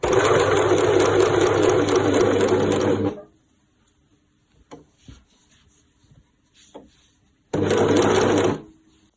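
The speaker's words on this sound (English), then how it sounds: "You are just going to overlock your way down through that underarm seam and side seam in one long go." An overlocker stitching the underarm and side seam of a striped tee in one pass runs loud and steady for about three seconds, then falls to quiet handling noises before a second short burst of machine running.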